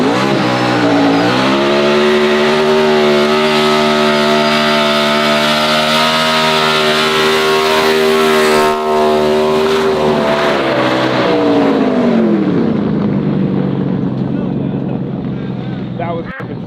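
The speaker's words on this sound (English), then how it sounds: "That was one sick, nasty burnout though, I will say." An 800-horsepower NASCAR race car doing a burnout, its engine held at a loud, steady high-rev roar for many seconds before dropping and winding down, with people talking over it.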